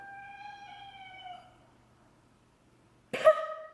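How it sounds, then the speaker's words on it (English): A house cat gives a drawn-out, wavering tonal cry lasting over a second, heard at moderate distance in a quiet room. After a pause comes a short, sharp, louder burst. "my cat just like screamed"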